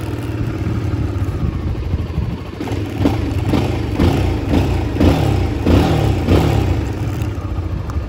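A Modenas Z15GT motorcycle engine turns over and settles into a rough, uneven running note, holding steady with a few short revs pulsing through the middle, close and fairly loud with no talking.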